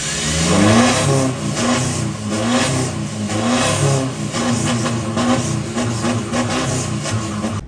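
An Isuzu pickup truck engine with an aftermarket exhaust revs repeatedly with a deep, throaty rumble, rising and falling in loud bursts, close by with no talking.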